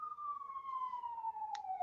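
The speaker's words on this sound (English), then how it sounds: "I got a siren passing me here" A single emergency siren wails as it passes, its steady tone gliding slowly downward while it sweeps by at a moderate distance over low background rumble.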